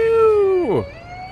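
A video-game ambulance siren wails briefly and loudly, its steady tone sweeping sharply downward as it cuts off.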